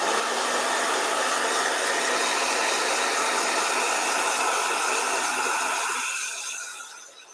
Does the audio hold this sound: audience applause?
no